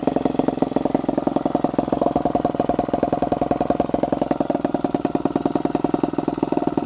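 A miniature 2.2cc four-stroke model engine, set up to run on grease, runs steadily at fast idle with a rapid, even buzzing firing rhythm, loud and close throughout with no talking.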